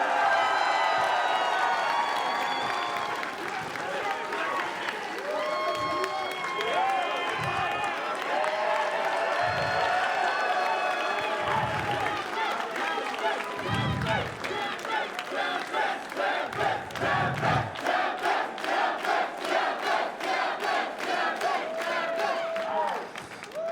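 An esports tournament crowd at CEOTaku 2023 roars for the Guilty Gear Strive champion with loud, sustained cheering, whoops and shouts, and clapping builds toward the end.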